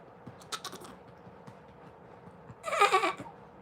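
A baby makes a short burst of high, bleating cries like a young goat, loud against a quiet room with a few faint clicks and rustles before it.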